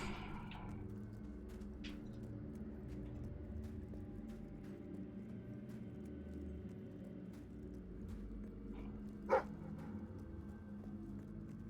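A dog in the video game Fable III gives a few faint, sharp barks, with one louder bark near the end. The barks sit over a quiet, low game ambience.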